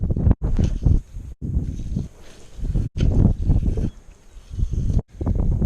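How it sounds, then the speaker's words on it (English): Strong wind buffeting a microphone outdoors while fishing, loud low rumbling gusts that surge and drop off abruptly several times, close and rough with no talk. "it is super windy, so you are about to hear that right now when I take you out"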